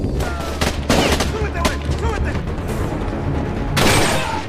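Gunfire rattles through a film shootout, with rapid bursts and sharp shots layered over a dense, steady rumble of background score and noise, loudest near the start and again toward the end.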